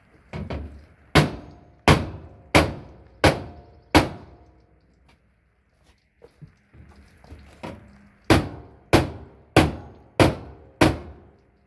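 A hammer strikes the side of a clothes dryer at an angle to fix a door that keeps popping open: two bursts of about six sharp, evenly spaced metallic whacks, separated by a pause filled with faint shuffling.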